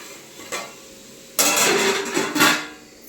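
Goat intestines frying in a pan: a quiet stretch with one light clink, then sudden loud bursts of sizzling and stirring up close that rise and fall over a couple of seconds.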